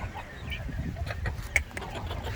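A brood of roughly month-old Giriraj chicks being kept at home cheep and cluck softly, with scattered faint calls and one brief sharper peep over low background rumble.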